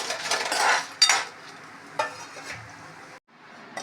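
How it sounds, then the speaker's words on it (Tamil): Whole spices for bisibele bath powder (cumin, pepper, cardamom, cinnamon, cloves, poppy seeds, sesame and dried chillies) dry-roasting in a pan, with close scraping stirs, light rattling and a few sharp utensil knocks against the pan. "ஜீரகம், மிளகு, ஏலக்காய், பட்டை, கிராம்பு, கசகசா, எள்ளு, மிளகாய் இதெல்லாம் வறுத்தோன்னா தனியா போடணும்."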